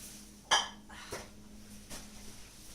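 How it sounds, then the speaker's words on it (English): A bowl clatters faintly in the background, with one sharp knock followed by two softer clinks spaced apart in an otherwise quiet room. "she's making a bit of a noise with their bowl."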